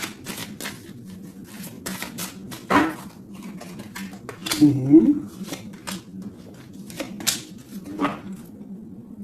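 Tarot cards being handled and drawn, with crisp papery flicks and taps in irregular bursts close by, under quiet speech.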